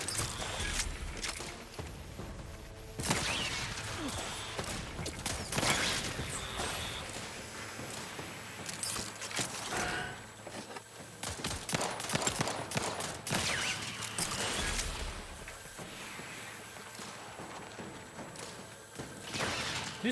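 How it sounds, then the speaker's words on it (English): Video game gunfire in a sci-fi shooter, bursts of rapid shots repeating in clusters over a busy game soundscape, with brief footsteps and mechanical clatter between them. "You still shooting things?"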